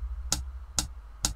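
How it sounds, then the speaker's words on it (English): Three crisp, evenly spaced hi-hat ticks from an acoustic indie pop rock drum pattern, light and bright, with a steady rhythm and quiet gaps between them. "the hi-hat right here,"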